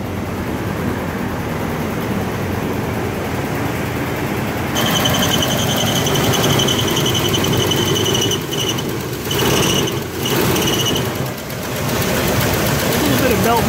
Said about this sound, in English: A little bit of belt noise, a little bit of lifter chatter and or exhaust.